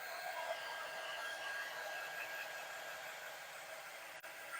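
A heat tool blows steadily to heat-set ink on a papercraft project, a constant, loud hiss of fan and rushing air held for several seconds with a brief dip near the end.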